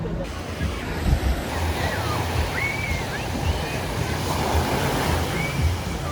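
Waves and surf roll steadily onto the shore at Coral Beach, Grand Cayman, a continuous loud wash with wind buffeting the microphone throughout.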